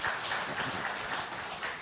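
Audience at an HVAC industry talk clapping for a guest speaker, a brief, fairly faint patter of applause from a modest crowd.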